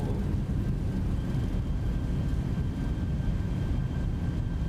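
Boeing 737 engines roaring in reverse thrust during a landing rollout in a flight simulator, a steady, dense, loud low rumble with no break throughout.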